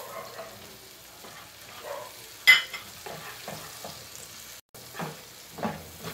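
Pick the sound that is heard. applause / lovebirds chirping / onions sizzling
onions sizzling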